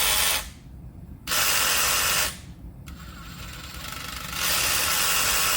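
A DeWalt DCS312 compact reciprocating saw with a variable-speed trigger runs unloaded in two loud close bursts. The motor whine rises and falls as the trigger is squeezed and released, then holds steady at the end.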